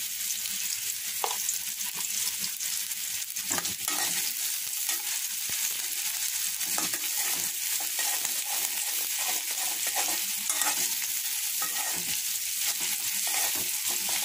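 Whole cumin and spices frying in oil for a mixed vegetable curry with green banana, potato, carrot and eggplant, a continuous close sizzle with intermittent scraping stirs of a spoon.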